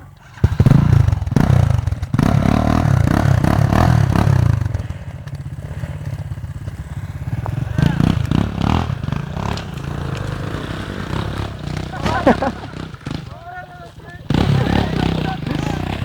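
A loud enduro motorcycle engine revs hard and holds a steady roar, easing briefly and then surging again, with clattering and scraping mixed in and voices calling over it.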